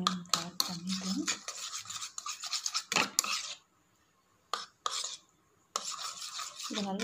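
A homemade pimple treatment mixture is stirred in a small container, giving close scratchy, rubbing scrapes in quick continuous strokes that break off into silence for a second before resuming.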